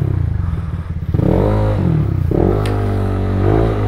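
A Yamaha NMAX scooter with a 200cc racing stroke engine revs up close by, its whine climbing and falling in a few quick throttle sweeps over a rough idle.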